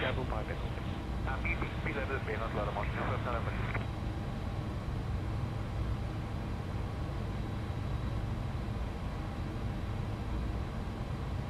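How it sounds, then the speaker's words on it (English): Twin jet engines of a Beluga A300-600ST idle at Shannon in X-Plane, a steady broadband roar with a faint high whine, while radio-like chatter crackles over it early on. "Okay, the two engines have now started"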